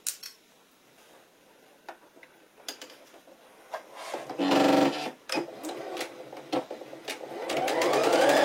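A sewing machine stitching a seam on a jumpsuit, with soft ticks and handling noises first, then a short whirring run, pauses, and a longer steady burst of stitching close by.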